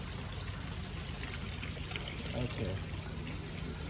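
A garden hose sprays water onto a garden, giving a steady pouring, trickling stream throughout, with a person briefly saying a word over it.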